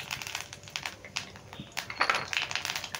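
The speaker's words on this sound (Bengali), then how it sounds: "এবার ফোড়নে দিয়ে দিচ্ছি একটু জিরে" Whole cumin seeds crackling in hot mustard oil over a medium flame, a close, steady sizzle with scattered sharp pops and crackles, no voices.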